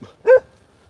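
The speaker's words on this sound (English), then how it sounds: "Got some dogs there." A dog on a morning walk gives one short, sharp bark in the distance. Quiet outdoor air surrounds it before and after.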